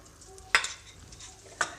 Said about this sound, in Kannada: ಆ ಅರ್ಧ ಬಟ್ಲು ತುಪ್ಪನೂ ಸಹ ಸಸಲ್ಪನೆ ಹಾಕ್ಕೊಳ್ತಾ ಹಾಕ್ಕೊಳ್ತಾ ಇದನ್ನ ಹುರ್ಕೊಳ್ತೀನಿ